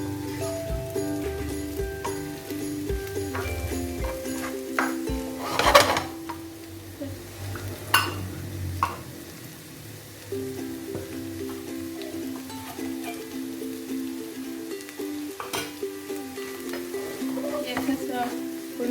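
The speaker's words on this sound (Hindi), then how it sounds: "ऐसा सा भुन गया मसाला आपका तेज़ आंच पे।" Masala for potato samosas fries on high heat, a steady close sizzle broken by scraping stirs and clinks of a spoon against the pan, with occasional faint talk beneath.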